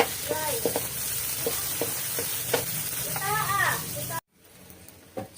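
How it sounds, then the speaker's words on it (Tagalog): Onion and garlic sautéing in a pan, a steady close sizzle with occasional stirring scrapes, while children's voices and chatter carry in the background before the sound cuts off abruptly near the end. "binigisa ko na po yung sibuyas sa kalasuna"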